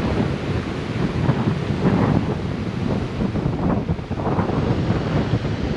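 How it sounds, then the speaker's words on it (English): Strong wind buffets the microphone in a steady roar at the Palomarin Trailhead on the Point Reyes National Seashore, with a low rumble of surf beneath it and no voices. "Windy."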